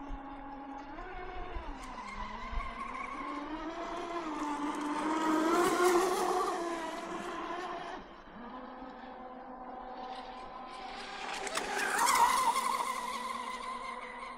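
A small brushless electric motor whines and rises in pitch as a Kyosho C-1 radio-controlled car accelerates, surging twice to a high scream before easing back.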